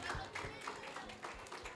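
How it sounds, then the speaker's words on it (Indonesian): Audience clapping for SMK 9 students at the Dinus Communication Carnival 2026 PodShow, a brief burst of scattered hand claps in a hall with a voice talking over it. "Beri tepuk tangan untuk SMK 9."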